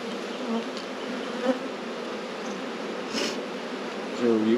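Honeybees buzz steadily in an opened hive with larvae and a new queen being raised, a dense continuous drone close by with occasional louder individual bees passing near; no talk.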